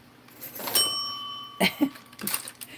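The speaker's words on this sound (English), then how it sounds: "Another bell." A single bright alert chime sounds during a craft livestream on decoupage, painting and foiling, ringing clearly for about a second and a half before fading, followed by a few soft handling knocks.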